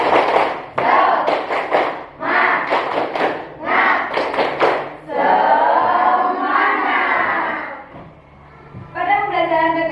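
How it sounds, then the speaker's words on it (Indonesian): A sixth-grade class performs the 'tepuk semangat' clapping routine: groups of sharp, loud claps in a set rhythm alternate with the children chanting together, close and energetic, ending in a longer stretch of voices. "Agar lebih semangat lagi, kita guru coba tepuk semangat dulu ya."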